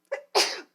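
A single close, loud human sneeze: a short indrawn burst followed by a stronger, breathy explosive release, ending in silence.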